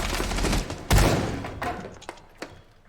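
Video game gunfire shot through a wall during an esports match: a heavy thud-like burst followed by scattered smaller impacts and shots over a busy, noisy background.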